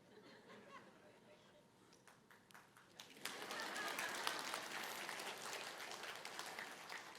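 A church congregation breaks into applause during a sermon, scattered claps building about three seconds in to a louder, sustained round mixed with murmuring and a few laughs.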